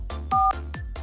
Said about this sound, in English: I have to make a very important phone call